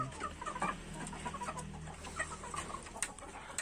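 Hens cluck and murmur in a breeding coop, a string of soft close clucks over a low steady hum, with no talking.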